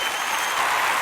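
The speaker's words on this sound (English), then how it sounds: "Steve, cue the applause." Canned applause track cued on a money podcast: a short, dense burst of steady clapping at even loudness, with no talk over it.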